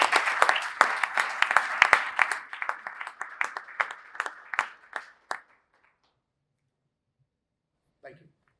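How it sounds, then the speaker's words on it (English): Audience applause after a downtown address at a civic event, dense clapping for about five seconds that thins into scattered claps and stops, followed by silence and a brief faint voice near the end. "give yourselves a round of applause"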